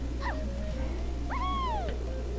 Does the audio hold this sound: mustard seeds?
no